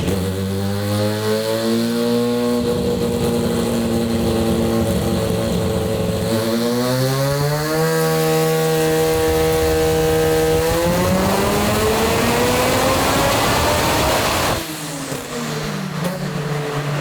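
A two-rotor rotary engine in a Mazda RX-7 screams steadily on a dyno, loud and close, its pitch climbing in stepped sweeps as it pulls through the run before easing off near the end, with no voices.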